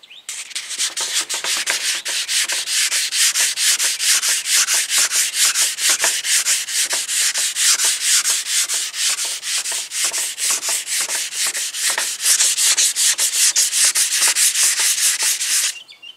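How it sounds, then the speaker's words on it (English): Steady back-and-forth rubbing of 400-grit paper on a sanding block, wet sanding a fiberglass crack repair on a 1988 G-body Monte Carlo, with rapid even strokes close up and loud throughout, no talking. "Now it's time to level it on off by wet sanding. I'm going to use 400 grit on the block,"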